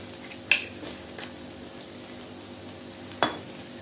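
A spoon occasionally scraping and tapping a pan while potato Manchurian with tomato sauce is stirred over a faint, steady sizzle, with a few distinct clinks.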